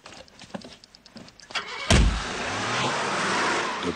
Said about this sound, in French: Démarrage voiture.